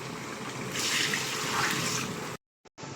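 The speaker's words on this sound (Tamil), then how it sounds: "தண்ணியை சேர்த்தாச்சு" Water pours steadily into a cooking pot of chicken maqluba for a couple of seconds with a rushing splash, then stops abruptly; a faint clink follows in the quiet.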